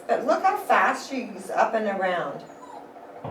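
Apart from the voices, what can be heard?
puppy's little cries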